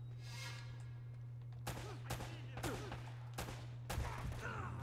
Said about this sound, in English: We got that mounted machine gun as well coming up.